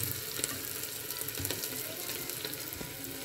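Onions sizzle and fry in a pan for instant pasta, a soft continuous hiss with faint scraping and occasional light clinks, fairly quiet and steady.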